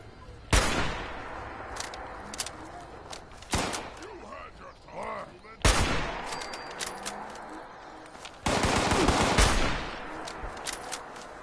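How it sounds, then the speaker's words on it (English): Gun turret firing in the video game Fallout 76: loud sharp bursts of rapid gunfire arrive in four separate volleys, with quieter game sounds filling the gaps between them. "Another gun turret over here,"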